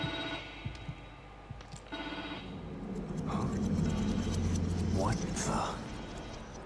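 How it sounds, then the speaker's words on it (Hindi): Telephone ringing in the horror video game The Evil Within 2, a repeated electronic ring heard mid-level through game ambience and mechanical noise, with someone talking over it. "फोन आ रहा है किसी का"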